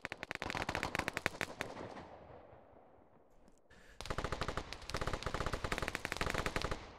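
Video game gunfire in a capture-the-flag match, rapid automatic bursts of sharp shots that pause briefly in the middle, then resume in dense, fast volleys through to the end.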